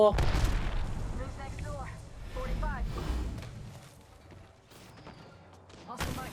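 Gunfire rattles in Apex Legends, a loud burst of shots with booming impacts at the start and again at the end, under excited talk from a player.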